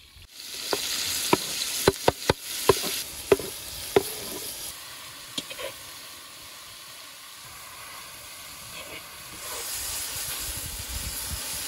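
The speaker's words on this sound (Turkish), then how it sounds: "İndi soğanımızı kızardırdık." Onions frying in a pot for a village Uzbek pilaf: a loud, continuous hiss and sizzle with a run of sharp metallic knocks and scrapes early on, then steady frying alone.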